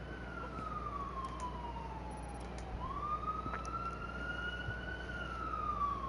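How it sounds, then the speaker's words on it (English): Emergency vehicle siren outside, a slow wailing tone falling and rising again, heard faintly at a distance through a steady background hum, with no talking. "Is that a real siren? Must be."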